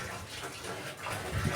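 Water gushes steadily from a homemade water pump, a continuous broadband rush that swells slightly louder near the end, with no voices.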